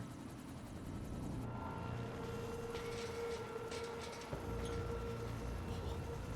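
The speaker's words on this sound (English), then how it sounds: "Good old helicopter." A steady helicopter rotor drone in the video game Quantum Break hums continuously at moderate distance, with a low rumbling engine bed and no voices.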